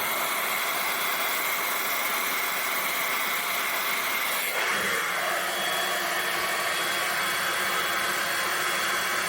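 A heat gun blows continuously while softening a plastic storage bin being cut into a cat box, a loud even rushing hiss with a slight shift in tone midway and no talking.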